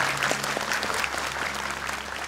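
A studio audience at the Indonesian Quran recitation competition Hafiz Indonesia 2019 claps in a steady, sustained round of applause, fairly close, over a low constant hum.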